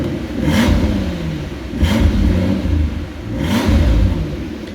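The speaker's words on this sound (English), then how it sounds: "It's firing in all 12 cylinders." A 2005 Mercedes SL65 V12 with 97k km revs three times, each blip rising sharply and falling back to idle, loud and close, with a rough rumble and some clatter between pulses.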